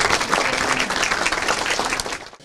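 Applause welcoming Prof. Aziz Sancar at TÜBİTAK's Gebze campus, a lively crowd of students clapping steadily and densely before it cuts off abruptly.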